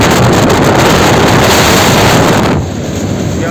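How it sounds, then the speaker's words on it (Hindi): Strong sea wind roars across a seaside road in Karachi, a loud, steady blast of gusting air battering the microphone, easing slightly toward the end with no voices. "क्या ज़बरदस्त तरीके से इधर हवा चल रही है।"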